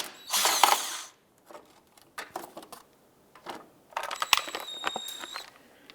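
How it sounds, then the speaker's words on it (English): A power driver with a T27 Torx bit backs out the splash shield screws on a 2011-2019 Ford Fiesta, giving short whirring bursts and clicks with pauses between, close by and without talk. "We're going to use our 27 or T27 Torx bit to go ahead and remove these two screws here."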